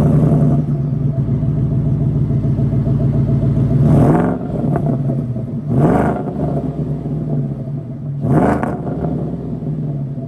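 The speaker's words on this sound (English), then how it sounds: "Now let's hear the exhaust note and go drive." A 2021 Roush Ford F-150 with a Whipple supercharger idles with a deep, steady rumble, broken by three sharp revs of the exhaust, each rising and falling within a few seconds.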